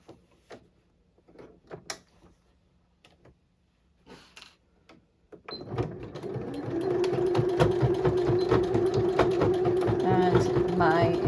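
A home sewing machine stitches through the bulky lower edge of a dress, a steady loud whirring run that starts after scattered handling clicks and taps, then continues evenly to the end.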